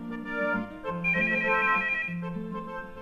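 A telephone rings with a bright electronic ringtone, its warbling melodic tone repeating clearly and fairly loudly through the whole stretch, with no voices over it.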